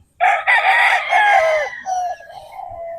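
A Gilmore Hatch, Boston Roundhead gamefowl rooster crows loudly and close by, one long harmonic call that trails off, followed by a shorter second crow.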